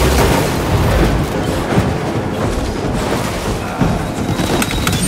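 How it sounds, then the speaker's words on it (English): A grenade goes off in Warhammer 40K: Space Marine 2, its booming blast buried in loud, continuous battle noise of gunfire and heavy impacts. "Grenade for you."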